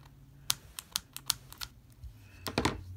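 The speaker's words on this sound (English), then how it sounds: "I'm going to go ahead and just trim this little tag end right here." Sharp snips of KastKing braid scissors trimming the tag end of braided fishing line on a punch rig, several quick close clicks in an irregular run, then a louder cluster of cuts near the end over a low steady hum.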